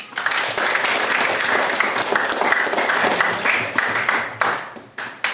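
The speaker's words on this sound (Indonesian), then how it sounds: "terima kasih kelompok pertama, kita beri tepuk tangan" Classroom applause for the first student group after their presentation, a dense, steady wash of many hands clapping close by that holds evenly for about five seconds and thins out at the end.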